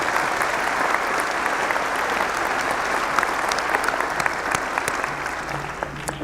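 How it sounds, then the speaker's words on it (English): A large audience applauds at a winter university commencement ceremony, producing dense, continuous clapping that fills the room at an even, loud level. "Let's give them a round of applause"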